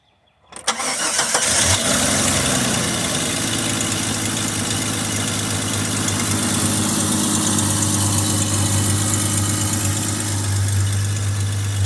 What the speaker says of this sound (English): Zach's going to start up the Jeep.